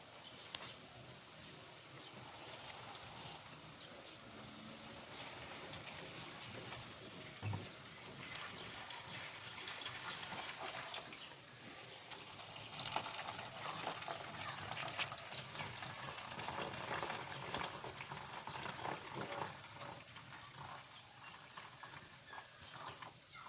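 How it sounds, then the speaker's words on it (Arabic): Water poured slowly into glass cups makes a soft, continuous trickling wash, faint and steady throughout with no talk over it. "هنحط بقى الميه بالراحه كده عشان الكوبايات ما يطقش"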